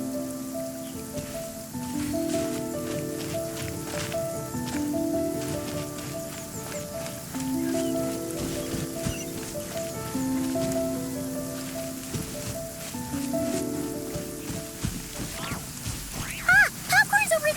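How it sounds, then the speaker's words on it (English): Rain patters steadily in the video game Genshin Impact, a constant soft hiss beneath a gentle melodic music score, with a brief burst of other sound near the end. "I like the rain."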